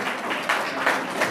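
Applause from party workers and guests at a political gathering in Jaswantgarh, a steady wash of clapping from a crowd at moderate distance, continuous through the short stretch with no clear talk over it.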